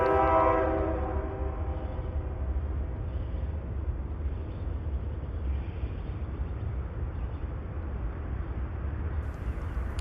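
A train passes at a rail crossing, its horn blaring loudly at the start over a heavy, continuous rumble of rolling cars that carries on for the rest of the stretch.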